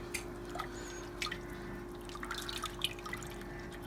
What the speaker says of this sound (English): And then we just go ahead and start adding our liquid.